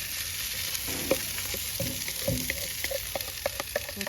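Corn kernels hit a hot griddle with a steady close-up sizzle, a broad hiss broken by scattered sharp pops and clicks from stirring and the spatula, with no voices.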